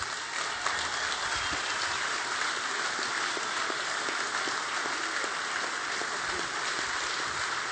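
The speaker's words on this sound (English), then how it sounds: "I'd like everyone to stand tonight and give Craig a big round of applause" Dense, steady applause from a large audience at an evening presentation night at a shearing competition, loud and sustained without a break.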